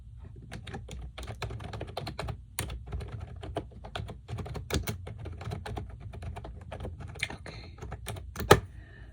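Steady typing on a computer keyboard during a medical intake role play, with dense, irregular key clicks running throughout and one sharper, louder tap near the end, close and quiet with no talking.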